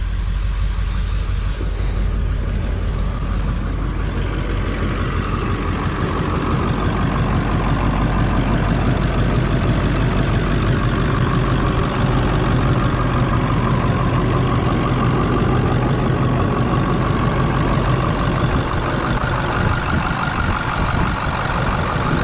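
A 2000 Ford F-250 Super Duty's 7.3L Powerstroke diesel idles steadily and loudly up close, a deep continuous rumble with a rough, throbbing texture and no talking.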